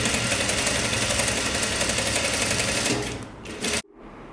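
Sewing machine running steadily while stitching the hem of a square-neck top with puffy sleeves, a dense continuous whir that slows near the end and then stops abruptly.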